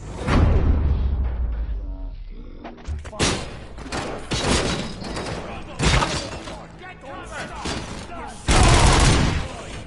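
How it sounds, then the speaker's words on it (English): Bursts of gunfire and crashing impacts erupt in loud clusters in the video game RoboCop: Rogue City on PS5, mixed with thuds and whooshes, with voices shouting between the volleys. "Am I hearing gunshots?"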